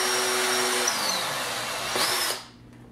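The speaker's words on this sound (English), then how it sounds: "So I'll have to drill another hole." A power drill bores a hole through a speaker housing, a loud steady whine lasting about two seconds with a brief pitch shift before it cuts off, leaving quiet room tone.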